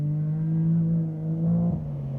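A vehicle engine drones with a strong low exhaust tone that swells and dips as it revs, close and fairly loud.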